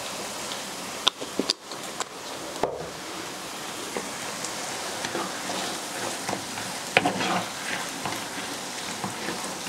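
Ground meat and onions frying in oil in a pan, a steady close sizzle with a few sharp clanks of a utensil being stirred through, no talking.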